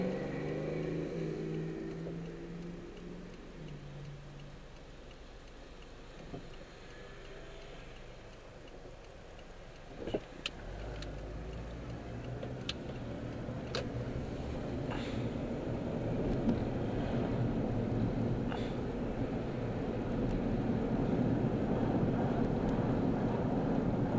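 Aftermarket exhaust on a daily-driven car rumbles steadily while driving, a low continuous drone with wind noise that swells slightly louder toward the end, with a few faint ticks along the way.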